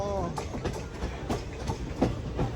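The Guruvayur Express rolls along between Nagercoil and Chennai with a steady rumble and repeated clickety-clack wheel beats, heard from inside the moving train.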